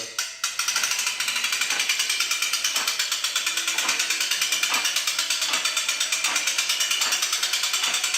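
A driver fitted with a 7/16 nut driver runs in reverse on an Arien Apex 52 mower deck, giving a rapid ratcheting, clattering mechanical whir that stays steady and close throughout.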